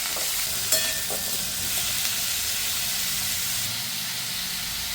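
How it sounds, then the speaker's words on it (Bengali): Small-cut papaya pieces frying in oil with whole spices for a Bengali dish, giving a steady, loud, close sizzle and hiss throughout with a brief stir near the start. "পুরো মশলার সাথে ভালো করে পেঁপেটাকে ভেজে নেব"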